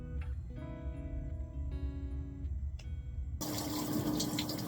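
Water comes on in a shower: after some humming tones and clatter, a loud, steady rush of running water starts abruptly and continues close by.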